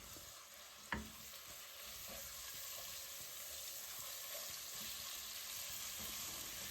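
Steady, quiet sizzle of minced meat frying in a pan, with a sharp clink early on and soft scraping as it is stirred.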